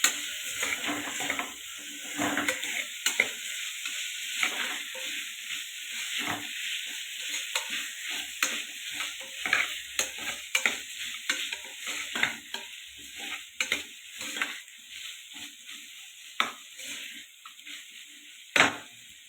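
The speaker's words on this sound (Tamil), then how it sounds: "நம்ம எடுத்து வச்ச புதினா கொஞ்சம் போட்டு நல்லா ஃப்ரை பண்ணணும்" Mint leaves fry in a pan for ghee rice, with a steady sizzle under repeated stirring and scraping strokes that land close and fairly loud, and no one talks.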